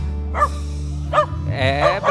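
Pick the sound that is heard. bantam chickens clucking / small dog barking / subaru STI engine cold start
small dog barking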